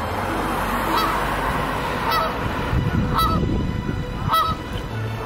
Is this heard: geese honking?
yes